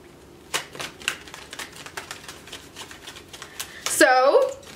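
Tarot cards shuffled by hand at close range, a quick run of crisp riffling clicks, with a person talking over it.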